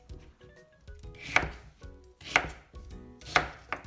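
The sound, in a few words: chopping white radish into bite-sized pieces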